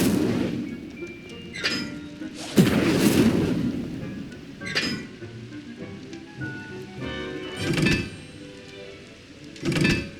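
Fire spells cast in Hogwarts Legacy on PC: several loud whooshing, booming bursts of flame at irregular intervals, with a low rumbling background between the blasts.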